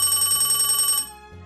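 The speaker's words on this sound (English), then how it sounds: "Oh, phone call." A telephone bell rings loudly in a fast trill for about a second, then stops, leaving a low hum.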